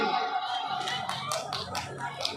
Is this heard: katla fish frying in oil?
no